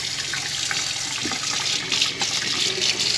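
Hot water running steadily from an RV tap while sanitizing the fresh water tank with bleach, a continuous loud splashing hiss close by.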